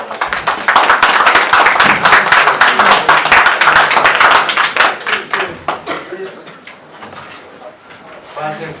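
A burst of clapping from a small group at a mock oral trial, loud and steady for several seconds, then thinning out into scattered claps and fading.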